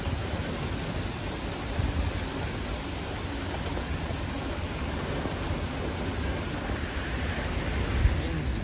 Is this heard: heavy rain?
yes